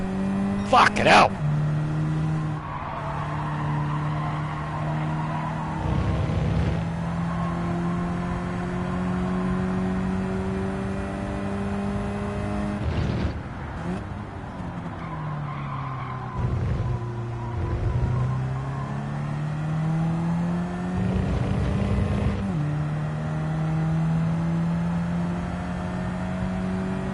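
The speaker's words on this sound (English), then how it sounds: "Almost sounds like it's got turbo. There's a whistle to it." A race car engine in a racing video game with a turbo whistle, droning steadily and rising and falling in pitch through gear changes and revs, with a person talking over it throughout.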